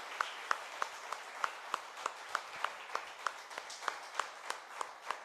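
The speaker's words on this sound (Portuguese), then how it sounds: "Você pode dar uma forte salva de palmas ao nosso Senhor, queridos?" Church congregation applauding steadily at a Sunday service, a wash of many hands with regular rhythmic claps running through it, moderately distant and continuous throughout, with no one speaking.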